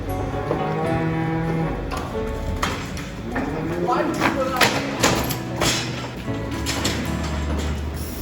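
Cattle mooing and lowing in an enclosure, with hoof thumps and shuffling nearby and people talking in the background.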